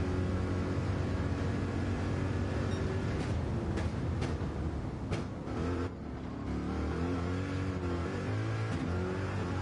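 Gr.3 race cars at Monza in Gran Turismo 7, a dense, continuous engine roar with several cars running close together and brief louder passes and shifts partway through.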